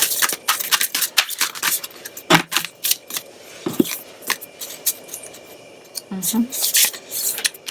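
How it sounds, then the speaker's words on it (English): Tarot cards are shuffled in quick, crisp bursts of flicking and riffling at close range, with pauses between them. "Shuffle one more time."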